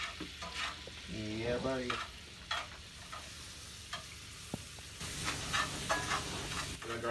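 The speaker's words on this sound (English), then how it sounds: "We throw our garlic in there just like that." Garlic sizzling in melted butter in a skillet, a steady close hiss and crackle with stirring, someone talking over it in places and a brief tonal squeal early on.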